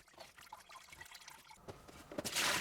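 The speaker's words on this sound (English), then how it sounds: "I turn the tap on and try to flush the debris through the plug hole." Tap water trickles slowly into a blocked bathroom basin with a clogged plug hole, a faint thin dribble that swells into a louder, brighter pour near the end, with no voices.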